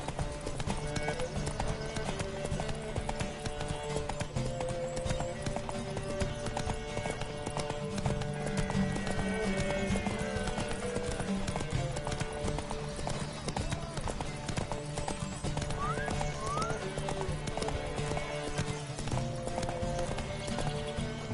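Galloping horses in a race in The Witcher 3 video game, continuous rapid clip-clop of hooves with occasional whinnies, people shouting over the thundering run throughout.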